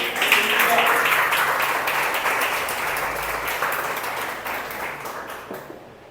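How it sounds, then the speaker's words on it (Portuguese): A church congregation breaks into loud, sustained applause that fades gradually toward the end, with dense clapping filling the room. "Dê um forte aplauso a Jesus por isso."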